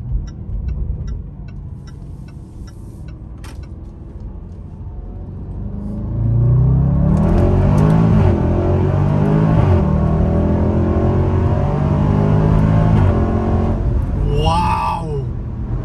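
A loud SUV engine rumbles at low speed, then revs hard as it accelerates while driving, the deep exhaust roar rising and holding strong for several seconds, with a few faint clicks and a brief voice near the end.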